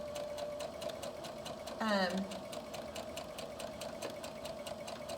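Sewing machine back stitching and then sewing a long pants side seam with pockets, a short burst of motor whir over a quiet steady hum, with a voice speaking nearby.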